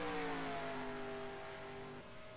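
Stock cars in the NASCAR Racing 2003 video game roar along the track, engine tones sustained at high revs with a slowly shifting pitch as several cars pass close together.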